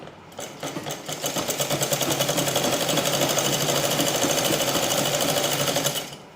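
A sewing machine runs a straight seam on a cancan petticoat, a steady fast mechanical whirring with rapid needle chatter that starts, holds evenly for about five seconds, then stops, with no voices.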